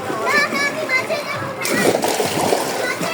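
A child splashes while learning to swim, churning water in bursts that grow stronger partway through, heard close with a child's and an adult's voices speaking over it.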